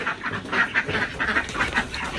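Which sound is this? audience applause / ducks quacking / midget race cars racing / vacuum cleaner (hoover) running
ducks quacking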